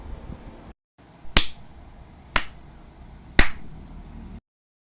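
A grade 3 class in a classroom gives three sharp, evenly spaced claps in unison, each a loud crisp burst about a second apart against quiet room tone.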